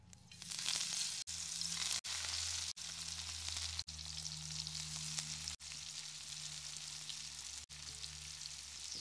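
Dried Bombay duck chilli fry sizzles in hot oil in a pan over a wood-fired clay stove, giving a steady, close hiss and crackle that runs continuously with no voices.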